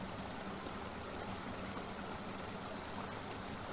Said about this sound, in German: Wo kommt das Wasser? Ich muss es blockieren.